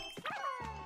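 A cartoonish dog gives a brief yipping bark in the video game Yoshi's Crafted World, a short, bright, close sound with no talk over it.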